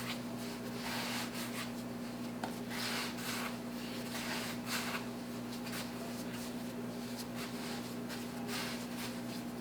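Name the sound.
kneading and folding beer toast bread dough by hand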